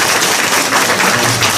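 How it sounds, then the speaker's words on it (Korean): Steady, dense applause from a lecture audience after a talk, loud and continuous throughout with no pauses. "뜨거운 박수 부탁드립니다."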